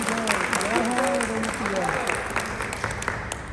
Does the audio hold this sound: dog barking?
no